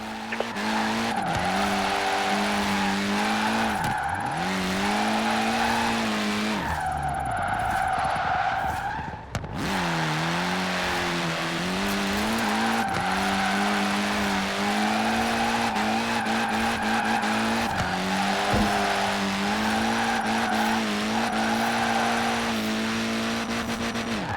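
Tires squeal continuously as a car drifts through Forza Horizon 4 on mixed road surfaces, the engine revving and wailing up and down in long sweeping pitch swings, loud and sustained, with a brief drop mid-way before it resumes.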